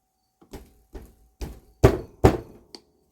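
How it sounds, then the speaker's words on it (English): Hammer taps on a stuck cylinder sleeve during a Moki 2.10 engine teardown, five sharp metallic knocks growing louder, then a faint final tap, evenly spaced and close with no talking. "I'll try to get it moving with a little bit of a pop with the hammer"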